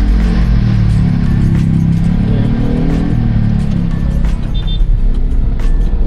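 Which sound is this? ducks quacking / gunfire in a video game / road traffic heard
road traffic heard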